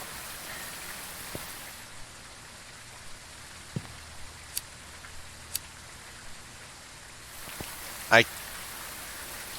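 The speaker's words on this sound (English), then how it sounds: "Oh, it's the rain!" Steady rain hiss in the horror game Phasmophobia, a constant wash of drops with faint ticks, a few soft knocks and a brief bright squeak near the end; a voice speaks quietly under it.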